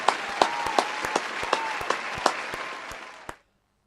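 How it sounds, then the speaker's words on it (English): A studio audience breaks into applause, a sparse round of close claps with distinct individual hand hits that carries on for about three seconds and then stops abruptly. "Have a round of applause."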